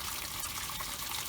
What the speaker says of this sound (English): now I'm going to test everything out by filling the sump with water